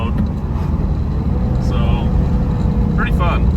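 A 1976 Porsche 912E driving on the road in fourth gear, a steady low engine and road rumble heard from inside the car, with brief voices over it.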